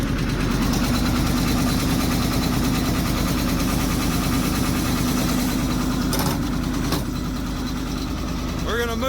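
Caterpillar 1160 diesel in a C800 truck, idling steadily after a cold start with a deep, loud, even rumble and a rhythmic chug, close by, with a couple of sharp clanks late on.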